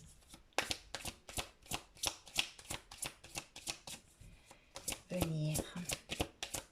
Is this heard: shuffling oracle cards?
yes